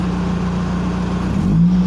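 An old car's engine idles with the air conditioning running, a loud steady low hum with a droning whir, shifting pitch slightly near the end as the load changes; no talk.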